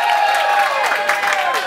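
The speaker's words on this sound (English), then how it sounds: "Clap and cheer" An audience on a cruise-ship movie night claps and cheers to vote for a film, a loud, dense wash of whoops and raised voices over continuous clapping.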